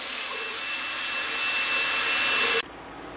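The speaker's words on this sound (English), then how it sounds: "so I'm going to finish it with my hand drill" A hand drill grinds steadily into wood for about two and a half seconds, a continuous hissing, rasping whir that stops abruptly, with no talk.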